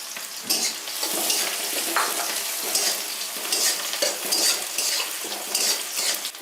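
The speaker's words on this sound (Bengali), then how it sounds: "বাদামি কালার না হওয়া পর্যন্ত আমি ভেজে নেব পেঁয়াজ রসুন।" Onions and panch phoron five-spice frying in hot oil for chicken bhuna khichuri, a steady close sizzle broken by repeated scraping strokes of a spoon stirring through the pan.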